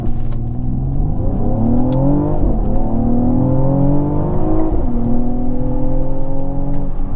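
A Mercedes-AMG with 4MATIC all-wheel drive revs hard with traction control off, left foot on the brake and right on the accelerator; loud, close engine roar climbing in pitch in two surges, then holding a high steady drone.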